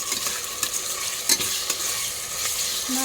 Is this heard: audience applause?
no